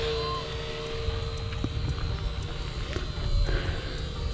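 An Eachine E160 RC helicopter flies nearby with a steady, high, tonal rotor and motor whine over a low hum, holding a fairly even level throughout.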